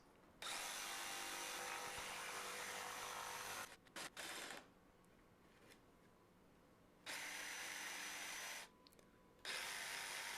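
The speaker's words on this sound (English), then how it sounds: "I'm just starting with a drill bit in the four corners" A power drill whirs in three separate bursts, boring holes into the corners of wooden panels, with quiet pauses between each hole and a few short clicks.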